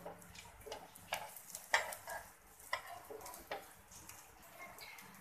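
Corn-poha cutlets shallow frying on a griddle give a faint, soft sizzle broken by a few sharp clicks and scrapes of a spatula as they are flipped.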